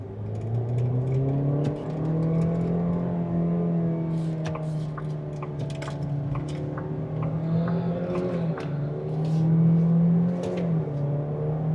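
A 2027 Kia Seltos S on the road, its engine giving a steady low hum that rises and falls gently with speed, and a faint whir and light rattles sit over the cabin background.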